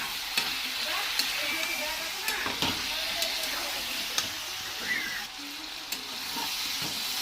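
Salt, turmeric, chili and chopped onion are stirred in a hot pan for a Bengali broad bean dish, giving steady sizzling with repeated scraping strokes of the spatula, close and continuous.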